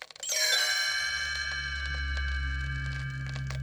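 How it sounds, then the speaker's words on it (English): A bright bell chime rings once as the page-turn cue on a 1984 Gremlins read-along vinyl record, striking loud and clear, then holding a long, slowly fading ring with no talking. "You will know it is time to turn the page when you hear the chimes ring like this."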